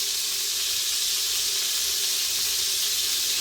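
Food frying in a pan, a constant loud broadband sizzle with no breaks, close by.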